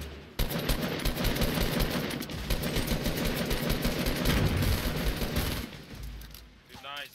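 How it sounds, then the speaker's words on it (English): Rapid automatic gunfire crackles in Fortnite gameplay, a dense sustained fusillade of shots close and loud for several seconds before tapering off. "Keep shooting, nading."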